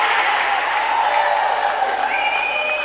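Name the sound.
crowd applauding sharp fielding at cricket match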